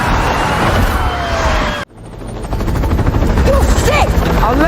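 A helicopter arrives amid gunfire in an action film scene: a loud, dense roar cuts off abruptly, then returns with a thumping rotor-like drone, rapid sharp bursts and whistling streaks toward the end.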